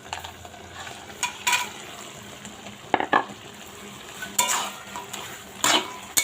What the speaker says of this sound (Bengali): এখন এর মধ্যে দিয়ে দেব ভেজে রাখা ডালের বড়ি।